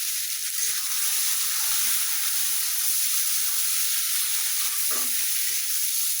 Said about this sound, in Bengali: আলুগুলো একটু ভালো করে ভেজে নিব